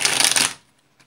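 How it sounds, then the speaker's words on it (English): Tarot cards are riffled in one quick burst of crisp, fluttering shuffling that lasts about half a second, stops abruptly and is followed by a faint tap. "The cards are already falling all over the place and I haven't even started shuffling."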